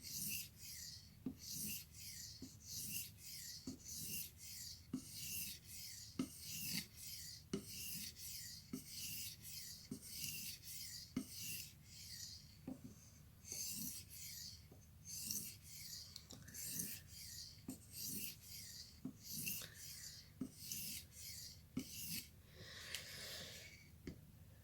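A blade edge is polished on a sharpening stone in slow, even back-and-forth rasping strokes, quiet and close, with about two strokes a second and no talk.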